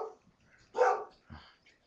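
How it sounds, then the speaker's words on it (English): A pet dog at home lets out a short bark and a softer yip, moderately close, with quiet pauses between and no speech. "Sorry, that was my dog."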